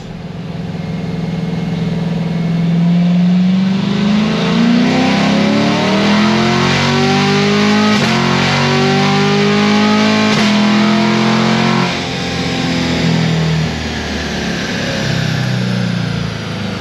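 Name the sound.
car engine revving during dyno pull, bolt-on car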